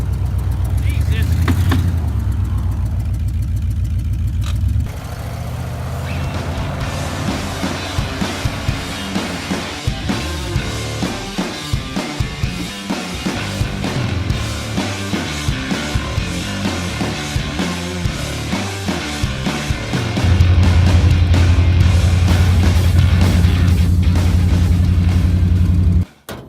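A Jeep Cherokee engine that runs poorly chugs and revs outdoors in snow, loud and close, with an uneven pulsing idle that rises into sustained throttle near the end, while people talk over it.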